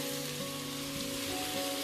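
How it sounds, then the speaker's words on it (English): Onions fry in a pan for a homestyle lamb curry, giving a steady dense sizzle and crackle that stays loud and even throughout with no talking. "When you're caramelising your onions and frying them, that adds an awful lot of flavour into your food."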